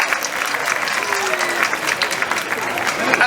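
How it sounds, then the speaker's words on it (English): An audience at a sea lion show applauds a volunteer, a lively, sustained round of clapping from a large crowd with voices and chatter mixed in. "How about a big round of applause for our volunteer?"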